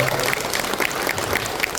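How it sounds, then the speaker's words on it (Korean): A seated lecture audience claps for the event hosts, a steady, fairly loud burst of applause with crisp individual claps standing out, no voices over it. "그분들을 위해서 일단 박수를 한번 쳐주세요."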